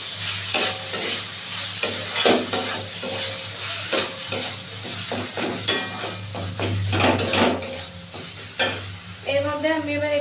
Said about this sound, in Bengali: এবার আমি লোটে মাছগুলো দিয়ে দিচ্ছি। ভালো করে মিশিয়ে দিচ্ছি।